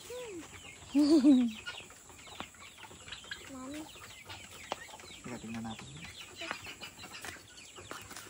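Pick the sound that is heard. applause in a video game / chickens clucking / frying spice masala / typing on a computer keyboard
chickens clucking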